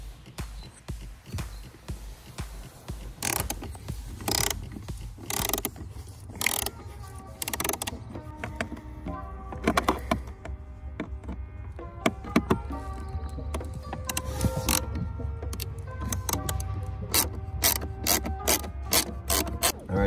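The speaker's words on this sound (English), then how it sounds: "All right, so we removed these 3 torque bolts here." A hand ratchet spins out the hex-head torque bolts holding the blower motor under the dash of a Lexus IS350, with repeated close, crisp clicking bursts and short pauses between runs.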